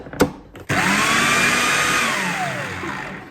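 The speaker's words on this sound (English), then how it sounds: "So we have decided to put ours into the blender." A kitchen blender whirs loudly and steadily after a brief clatter, pureeing spinach for a spinach cake, its motor tone rising slightly and then easing over a few seconds.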